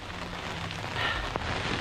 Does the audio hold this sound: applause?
no